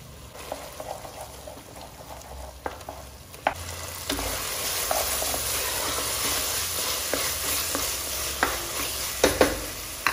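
Ginger garlic paste frying in hot oil for a curry, a soft sizzle that grows louder and denser partway through, with occasional spoon scrapes and taps in the pan.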